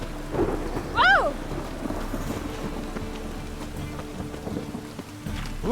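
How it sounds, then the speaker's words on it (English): Heavy rain pours steadily in The Witcher 3 with a low rumble of thunder rolling underneath, and a brief game-world vocal cry rises near the start, the downpour continuing as a dense wash throughout. "Raining buckets."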